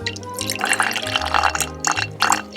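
Water dribbling and trickling into a glass, close and soft, with small splashy drips and clinks in an uneven rhythm over a low hum.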